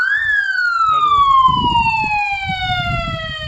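Siren warning system wailing loud and close, a single long tone sliding slowly downward in pitch, with a few low rumbling background noises underneath.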